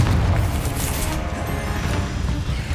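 A Confringo spell blast in the Hogwarts Legacy game lands as a dense, booming burst with rumbling low end, sustained and loud across the moment with crackling debris above.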